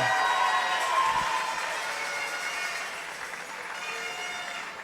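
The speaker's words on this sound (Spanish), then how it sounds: "Un aplauso al Señor" A church congregation at a worship celebration breaks into sustained applause and cheering, a broad, fairly loud wash of crowd noise that fades slightly toward the end.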